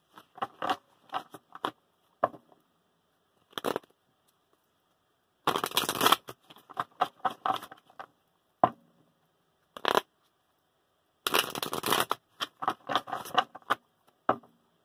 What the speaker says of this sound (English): I'm not shuffling this 16 times.